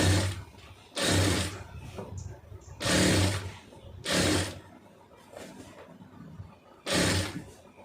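An electric sewing machine stitches a lined blouse with piping, running in five loud, even bursts of rapid whirring about a second long, separated by pauses where a person talks quietly.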